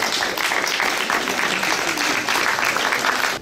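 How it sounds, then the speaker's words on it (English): A warm round of applause from an audience at an art exhibition, loud and sustained, with dense clapping throughout before it cuts off abruptly near the end. "Can we please have a nice warm round of applause for Eugenia Sakopoulos"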